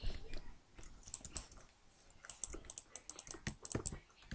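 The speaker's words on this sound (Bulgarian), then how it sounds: "Може да ми чувате мишката си, извинете." A wireless mouse used with a laptop computer gives quick, irregular bursts of sharp, close clicks at a low level, with short pauses between.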